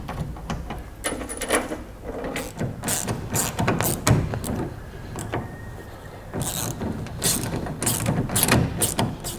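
A hand ratchet tightens supplied nylock nuts while a fishing rig is set up, giving close, repeated bursts of sharp clicking with brief pauses and light knocks between strokes.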